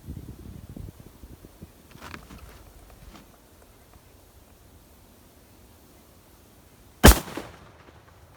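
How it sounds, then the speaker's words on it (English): A single loud, sharp gunshot from a rifle resting on a Bog DeathGrip tripod cracks near the end after a long quiet stretch with faint rustling and shuffling. "I was shooting out quite a bit further, and I still had my elevation way up."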